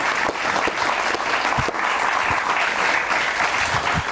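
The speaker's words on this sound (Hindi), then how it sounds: "अच्छी ताली होनी चाहिए।" Studio audience applause on a Pakistani comedy talk show, dense and even throughout, with scattered louder claps standing out and little talk over it.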